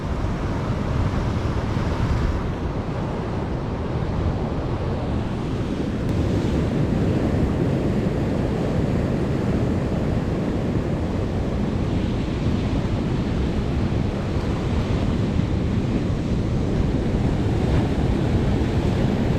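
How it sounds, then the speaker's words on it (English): Rough ocean surf breaks steadily on a rocky shore at Apollo Bay, a continuous loud wash of waves mixed with gusty wind buffeting the microphone, with no voices. "just to see what the waves are doing here."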